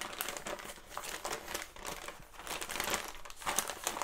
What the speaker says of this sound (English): Oh, packaged in newspaper.